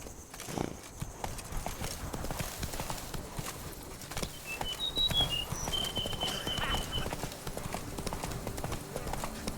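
Horse hooves clip-clopping at a steady trot in The Witcher 3: Wild Hunt, a continuous rhythmic patter under background game sounds, with a voice speaking briefly.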